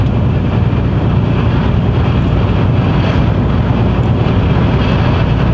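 Strong storm wind roaring in a continuous broadband rush near sound-barrier walls along a road, loud and steady with buffeting against the microphone throughout.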